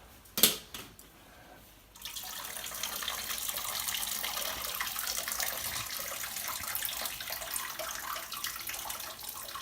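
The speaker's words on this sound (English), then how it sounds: "I'm just going to strain that off" After a couple of clanks, water from boiled pasta pours in a steady rushing stream as it is strained, splashing continuously close by for several seconds.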